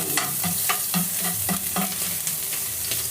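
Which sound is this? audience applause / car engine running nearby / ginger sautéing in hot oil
ginger sautéing in hot oil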